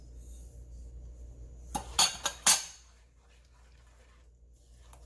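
Utensil scraping and clinking against a pan while jerky sauce ingredients are mixed over low heat, a few sharp metallic clinks close together amid a quiet kitchen.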